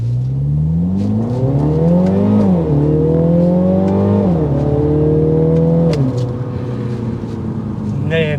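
A 2024 Mini John Cooper Works Clubman accelerating in sport mode, its engine note climbing through several gears with drops at each shift, loud from inside the cabin, with some talk.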